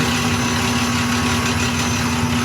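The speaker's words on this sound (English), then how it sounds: "you can hear the wheel, and you can tell when it's done because it's no longer grinding material off" A Highland Park SM1 shaping machine's grinding wheel grinds away material in a loud, steady, unbroken drone with a strong low hum and dense broadband roar throughout.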